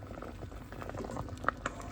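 Bilo-bilo with sweet potato boiling in a pot, a soft continuous bubbling and popping at close range, quiet and without talking.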